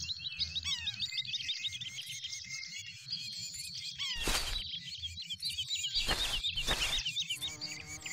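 Bird calls in the hunting game Bird Hunter Wild Wings: quick chirps and warbling tweets trilling near and far, broken by three sharp loud gunshot-like bursts in the second half, no talking.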